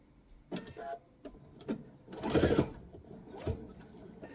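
A sewing machine stitches quilt binding in short bursts, running a few stitches, pausing, then reversing, close and fairly quiet.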